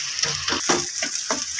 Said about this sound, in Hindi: मुसलसल इसको भूनना है और चमचा चलाते रहना है।